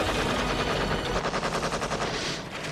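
Sustained automatic gunfire from a helicopter crew shooting back at a sniper in a film, a dense rapid rattle of machine-gun bursts with heavy low rumble, loud and continuous throughout with no talking.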